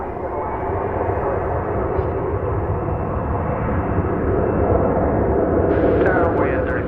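A plane on approach to runway 18 Right at DFW Airport produces a broad, steady jet roar that swells slightly, heard under radio tower chatter.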